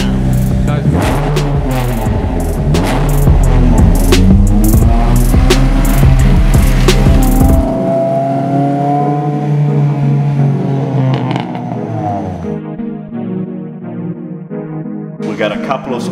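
A 2006 Honda S2000 engine revs hard while driving, rising and falling loudly close to the microphone before easing off to a lower steady hum near the end.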